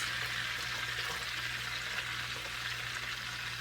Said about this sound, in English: We're going to cook our onion first.